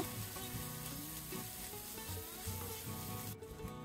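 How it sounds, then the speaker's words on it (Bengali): Ginger garlic paste fries in a pan with oil for chicken bhuna khichuri, a soft continuous sizzle heard alone at low volume beneath a faint musical background. "আদা রসুনের কাঁচা গন্ধ যাওয়া পর্যন্ত আমি ভেজে নিয়েছি"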